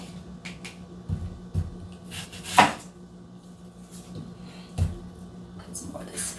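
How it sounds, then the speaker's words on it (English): A knife finely chopping green onion leaves on a board in a home kitchen, giving a handful of irregular sharp taps spaced apart amid quiet background, with one louder cut standing out. "The leaves I will chop up as fine as I could as well"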